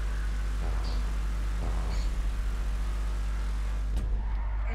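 A car drives in Grand Theft Auto V with a steady, loud engine drone held throughout, a few faint tire squeals on top and a brief sharper scrape near the end.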